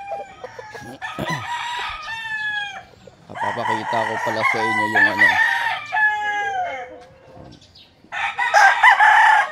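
Several gamefowl roosters at a small rooster farm crow in turn, loud and close, long drawn-out calls overlapping one another, with a voice speaking briefly among them.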